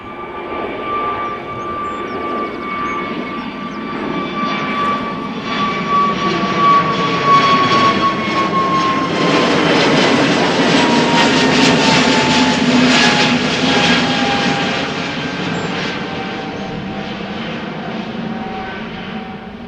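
A fixed-wing aircraft arrives on a runway at Amsterdam Schiphol Airport, its engine roar swelling and steady for about twenty seconds, loud and broadband with a whining tone, no voices over it.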